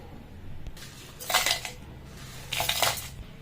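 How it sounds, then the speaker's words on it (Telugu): A mixer grinder coarsely blending fried coriander seeds and dried chillies, two short loud whirring, rattling pulses about a second apart over quiet kitchen background. "ఇప్పుడు నేను మిక్సీ పట్టుకుంటున్నాను ఫస్ట్ మనము ధనియాలు ఇంకా ఎండుమిర్చి ఫ్రై చేసి పెట్టుకున్నాం కదా దీన్ని ఫస్ట్ బ్లెండ్ చేసుకోవాలి"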